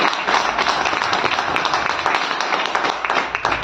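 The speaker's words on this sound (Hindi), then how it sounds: "मैं बात कर रहा हूं मिस्टर राजेंद्र शर्मा जी की, जोरदार तालियां।" An audience at a business meeting in a heritage hotel in Kurukshetra breaks into loud, dense applause, many hands clapping steadily and evenly throughout with no letup.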